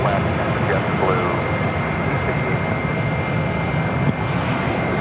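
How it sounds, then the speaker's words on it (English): A Boeing 737 jet departs Phoenix airport with a loud, continuous engine roar heard from outside, while a voice talks over it throughout. "Alright, we see the 737 departing southbound"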